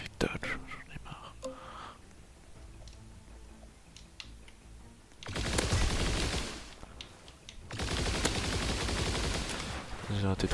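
Gunfire from a video game duel: two dense bursts of rapid shots, each lasting a couple of seconds, over a quiet game backdrop with a faint voice.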